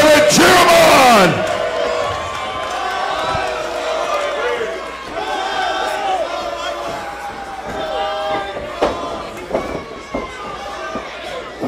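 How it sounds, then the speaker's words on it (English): A crowd at a fight event yells and cheers, loud at first and then carrying on as a steady noisy background with scattered shouts, while a commentator talks over it. "Come on, Charlotte, cheer him on!"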